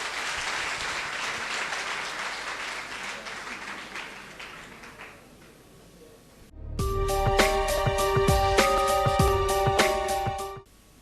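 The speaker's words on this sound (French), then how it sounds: "que je vais vous demander d'applaudir" An audience at a student debate event bursts into loud, sustained applause after a quieter stretch of scattered clapping, the dense clapping holding for about four seconds before cutting off.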